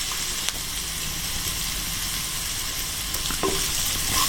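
Finely chopped onion, carrot and shallots sautéing in a pan, producing a loud, continuous sizzle with occasional stirring scrapes and knocks, no voices.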